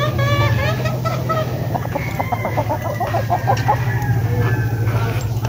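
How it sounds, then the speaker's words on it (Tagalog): Young breeding gamecocks (stags) cluck in quick repeated bursts on a farm, set over a steady low hum and a busy background of other fowl. "Ito po yung kanilang mga palahi na stag."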